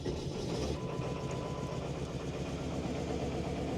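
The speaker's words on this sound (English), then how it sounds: "the old 550 will start here" An older Ford F-550 with a cold-blooded 7.3 diesel idles on a cold Alaskan day, a steady, close, low rumbling clatter with a faint whine and no voices.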